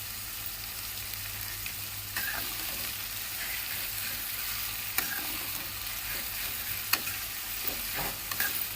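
Cumin seeds fry in hot oil for a goat meat curry, a steady close hiss and crackle that runs throughout, broken by a few sharp clicks of a utensil.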